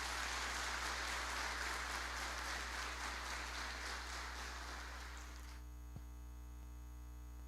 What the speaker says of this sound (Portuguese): Você pode dar um forte aplauso ao Senhor Jesus?